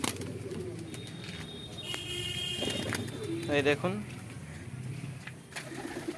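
Giribaz pigeons coo at their home loft, with low, rolling coos and a brief flutter of wings at close range while someone talks over them.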